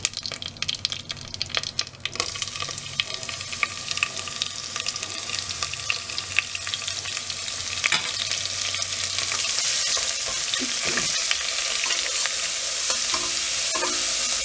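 Steady, loud sizzling and crackling of something frying in hot oil, continuous throughout with occasional stirring noises.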